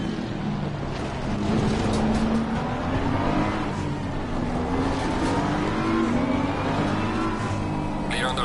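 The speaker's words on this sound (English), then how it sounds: "Car on the left." A race car's engine in a racing video game, droning close by at a steady high pitch as it runs alongside, loud and continuous throughout.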